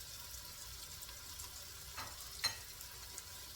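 Chopped garlic cloves hit a hot frying pan while cooking jerk cabbage with sausage, bacon and shrimp, giving a quiet, steady sizzle with a couple of brief stirring scrapes and no talking.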